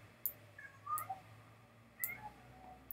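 Cat meowing several short times close by during a Pokemon Brick Bronze livestream, with faint clicks and a low steady background hum.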